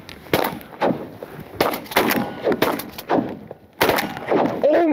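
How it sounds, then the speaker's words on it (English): Shotgun blasts ring out during a duck hunt over a pasture pond: several loud, sharp reports spaced about a second apart, each with a short echoing tail, in a close outdoor setting. "Aiden, shoot your gun this time"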